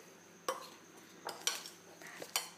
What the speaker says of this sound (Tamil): அதை அப்படியே மிக்ஸ் பண்ணுங்க.